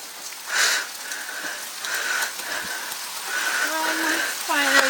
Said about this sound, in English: Hello in the rain, English weather.